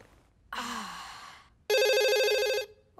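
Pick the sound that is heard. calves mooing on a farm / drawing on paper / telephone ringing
telephone ringing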